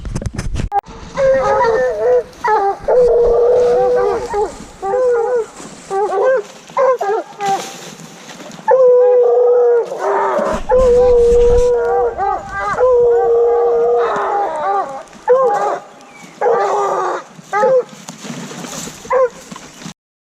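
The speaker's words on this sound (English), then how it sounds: "So that crazy sound is a pack of Walker hounds chasing down a mountain lion." A pack of Walker hounds bays and yelps while chasing a mountain lion at dusk, with overlapping howls, barks and whimpers coming in bursts, some near and some farther off, throughout the stretch.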